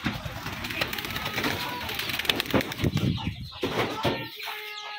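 Pigeons coo and flutter nearby in a busy outdoor setting, with scattered clucks and a brief burst of wing flaps amid background noise before it drops quieter at the end.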